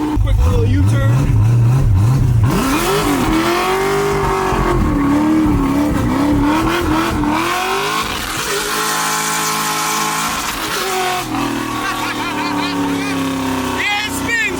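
A car's engine revs hard through a quick U-turn as the worn tires spin and squeal, loud and close for the whole stretch, with a voice talking over it.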